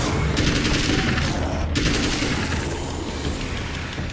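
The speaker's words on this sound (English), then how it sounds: "It's me doing it, actually doing 3-round bursts" Rifle fire in Alan Wake's American Nightmare, the shooter firing in rapid three-round bursts, a steady loud stream of close shots.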